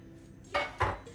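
Two short metallic clanks close by as a lid is lifted off a cooking pot, over a quiet background.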